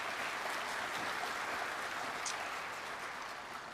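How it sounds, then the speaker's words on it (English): Audience applause at an Indigenous education conference, a uniform sustained patter of many hands clapping, fairly faint and steady, tapering slightly at the end. "let's give them a round of applause, please"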